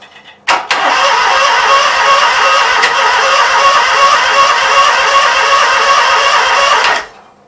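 A Briggs & Stratton Vanguard engine is cranked with the throttle held closed, producing a loud, steady whirring churn that starts abruptly and runs for about six seconds before cutting off, without catching.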